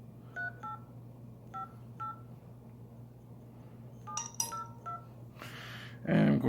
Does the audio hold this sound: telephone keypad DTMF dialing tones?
yes